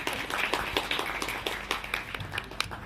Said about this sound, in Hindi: तो इनके लिए एक बार जोरदार तालियां बजा दीजिए